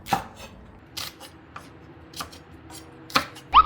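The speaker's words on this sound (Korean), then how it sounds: "큰 거는 이렇게 반 잘라주세요." A knife halves shishito peppers on a cutting board in a Korean kitchen, making a handful of separate crisp chops spaced about a second apart, close and alone.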